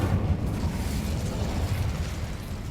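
Incendio fire spell cast in Hogwarts Legacy, a dense low roaring whoosh of flame with crackle that holds steady at fairly high loudness for the whole stretch, no voices.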